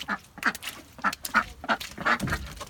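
Backyard ducks quack in a series of short, fairly close calls, about seven or eight nasal bursts spaced unevenly over a few seconds in a muddy yard, with no talking over them.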